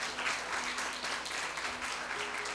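A church congregation at an evening service applauds, dense sustained clapping from many hands filling the room, with a few voices faintly mixed in.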